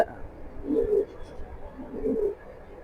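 Racing pigeons, a lively Mili pair, coo softly in two low murmuring bursts over steady background hiss, with a faint voice now and then.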